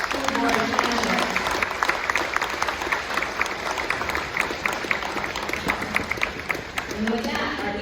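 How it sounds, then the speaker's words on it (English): Applause from a forum audience for school board candidates at an election event, steady mid-sized clapping throughout with a voice speaking over it. "Let's give a round of applause to our school board candidates."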